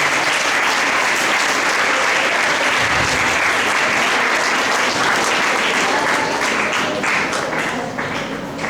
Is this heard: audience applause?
yes